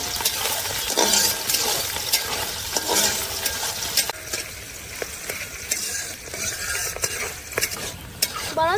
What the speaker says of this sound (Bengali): এবার আমি সুন্দর মতন ভেজে নেব মরিচ পেঁয়াজ